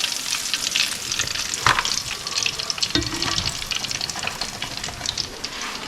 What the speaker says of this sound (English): Got to make sure that grease is really hot.